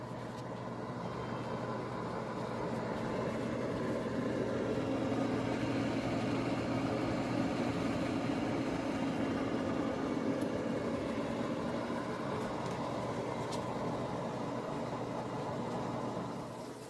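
A Power XL Air Fryer Pro heating toward 400 degrees gives a steady, even whirring hum that holds at constant loudness throughout, close and alone with no talking.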